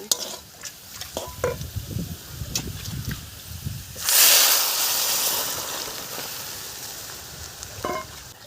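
Lentils (dal) are tipped into browned fried onions and tempering spices in a hot pan. Light stirring clatter comes first, then a sudden loud sizzling hiss that slowly fades.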